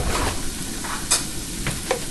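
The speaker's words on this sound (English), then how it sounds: "So I'm going to go ahead and saute this up." An onion sautes in about a tablespoon of vegetable oil in a cast iron skillet, giving a soft, steady sizzle with a few brief scraping stirs of a spoon, close and alone.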